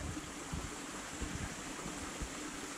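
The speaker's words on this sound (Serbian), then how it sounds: "U ovom dijelu se već spajaju dva potoka i samim tim rijeka postaje" A mountain stream rushes through Drenovštica canyon near Budva, Montenegro, where two creeks join. It gives a steady, even wash of flowing water with no voices.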